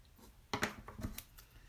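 Small Teflon-coated scissors snip through a thin adhesive strip, giving a few quick, close, crisp cuts in a quiet room.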